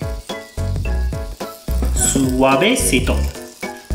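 Okonomiyaki batter sizzles in oil on a hot griddle plate, a steady frying hiss running beneath a voice and tonal background sounds.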